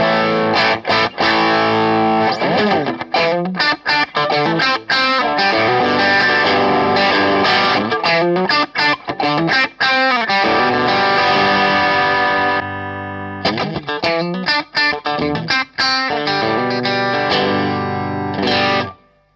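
Electric guitar on the bridge pickup driven through a Boss overdrive pedal, loud and continuous with thick distorted chords and riffs, one brief pause partway through, no voices.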